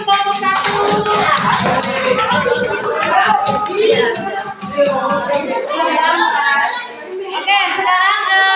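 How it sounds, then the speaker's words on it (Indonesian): A classroom group of children claps for the first group after a presentation, a loud ragged patter of hands mixed with children's chatter and voices throughout. "tepuk tangan dulu dong untuk kelompok 1"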